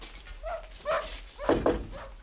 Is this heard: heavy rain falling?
no